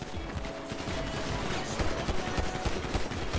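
Pistol gunfire in the online shooter mode of GTA V, a dense stream of rapid shots and clatter running continuously under game noise with no voices.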